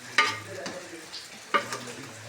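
Chicken curry stirred in a pan over heat, with two sharp utensil knocks against the pan amid a soft, steady sizzle, close by and without talk.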